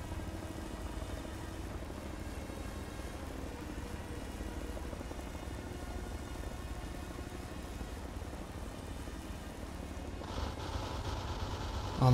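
A Chinook helicopter in the video game Arma 3 gives a continuous, low rotor drone that holds steady throughout at moderate distance, with a brief rise at the very end.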